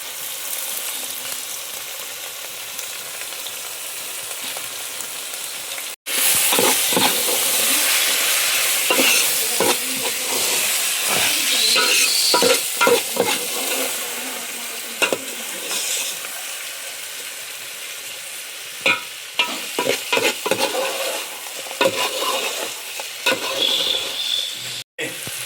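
Village-style chicken cooking in a pot in rural Kokan, stirred with a spoon: a steady loud sizzle and bubbling with repeated scraping and clanking strokes against the pot, no talking.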